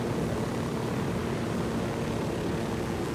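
A steady, droning helicopter rotor and engine roar in the video game Ghost Recon Wildlands fills the whole stretch, loud and continuous with no talking.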